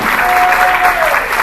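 Loud, dense applause from a church congregation, a close continuous wash of clapping through the whole short stretch.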